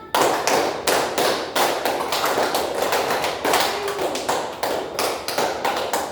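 A roomful of students claps together in a steady pattern of five beats repeated three times, crisp, near and loud, with short gaps marking each set and no voices over it.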